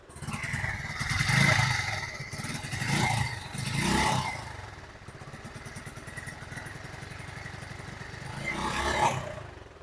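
A TVS motorcycle engine runs rough with an uneven, burbling idle that swells in a few brief revs before dropping back, close and steady throughout.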